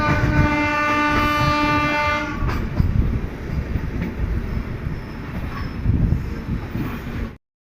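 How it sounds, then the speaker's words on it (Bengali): An express train leaving Tamluk station on the Howrah–Panskura–Digha route sounds a long, loud horn, then settles into a steady, heavy rumble of rolling wheels heard from on board. The sound cuts off abruptly at the end. "তমলুক স্টেশন ছাড়িয়ে যাচ্ছে আমাদের ট্রেন"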